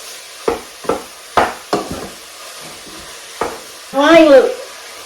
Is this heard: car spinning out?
no